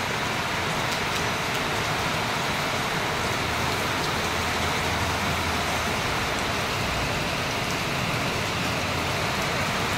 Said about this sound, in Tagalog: Grabing ulan, no?